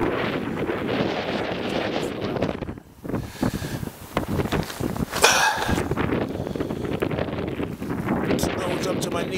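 Strong wind roars and buffets the microphone during a heavy snow blizzard in December, loud and gusty throughout with a brief lull, and a voice is heard briefly amid the gusts.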